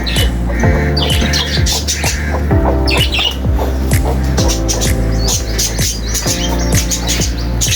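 Pet parrots squawk in harsh, repeated bursts near their nest, with wings flapping and chirps mixed in, loud and close throughout.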